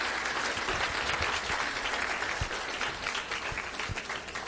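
An audience at an education symposium claps steadily to welcome two speakers to the table, a dense, sustained burst of applause with a few sharper claps standing out.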